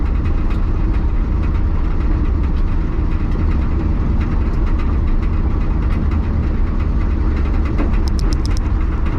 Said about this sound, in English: It sounds aggressive, but I'm not going that fast. First gear is real low.